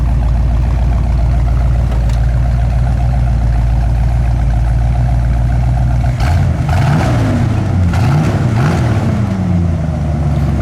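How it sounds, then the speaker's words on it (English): A 1971 Oldsmobile Cutlass V8 idles with a deep steady rumble, then is revved several times in quick rising and falling surges, loud and close. "We want to rev it up just a little bit."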